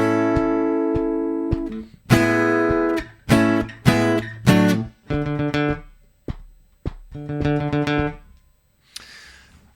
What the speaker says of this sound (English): This is a PRS SE Angelus acoustic guitar.